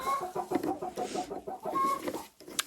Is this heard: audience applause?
no